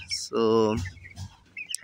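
A 22-day-old chicken gives a short, loud, close squawk, followed by a few faint clucks and rustles.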